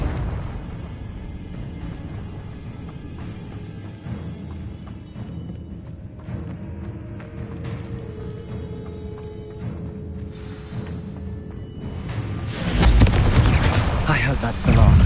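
A Confringo spell bursts in Hogwarts Legacy as a loud booming explosion near the end, following a stretch of rumbling game sound and music.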